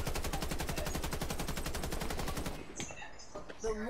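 Rapid automatic gunfire from a multiplayer shooter video game, a loud sustained burst of evenly spaced shots lasting over two seconds, then breaking off into scattered game effects and a brief voice.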